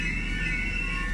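Train running through the Heald Green station platform without stopping, a loud, steady rushing roar with a high squealing tone throughout this brief moment.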